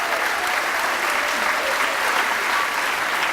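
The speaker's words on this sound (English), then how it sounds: "So one more round of applause, please" A theater audience at the Paramount Theater in Rutland claps for sponsors during a Dancing with the Rutland Stars charity event, a thick, even wash of applause filling the hall at full strength from start to finish.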